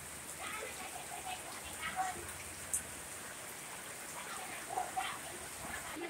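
Heavy rain brought by Typhoon Agaton falls steadily as a soft, even hiss, fairly faint and constant, with a few scattered sharper drips and taps rising briefly above it.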